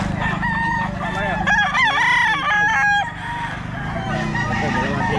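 At a Bocaue poultry seller, roosters crow loudly and repeatedly while chickens cluck all around, a dense, close barnyard chorus with crowing calls overlapping throughout.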